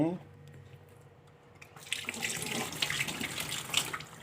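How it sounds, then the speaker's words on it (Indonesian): An egg is rinsed under a running kitchen tap, the steady broadband hiss of flowing water starting partway through after a quieter stretch with faint voice, then continuing loud and close. "salah satu telur ini akan saya cuci dulu"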